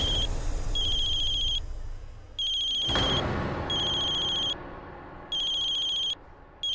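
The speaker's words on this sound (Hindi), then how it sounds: "ये किसका फोन रिंग हो रहा है?" A phone ringtone plays in repeated electronic bursts with short gaps, fairly loud and nearby, with a dull thump partway through.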